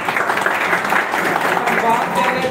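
Steady audience applause at a seminar for installers in Lahore, a dense even wash of clapping throughout the short stretch.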